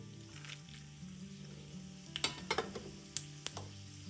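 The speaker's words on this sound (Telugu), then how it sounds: "దీనిలో శనగపప్పు, మినపప్పు, ఆవాలు, జీలకర్ర వేసుకోవాలి." Chana dal, urad dal, mustard seeds and cumin tempering in hot oil, a soft continuous sizzle with a few sharp pops and crackles near the end, close but fairly quiet.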